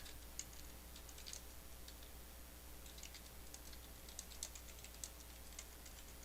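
Keys clatter faintly on a computer keyboard while a sentence is typed into a word processor, scattered quick taps over a low steady hum, no voices heard.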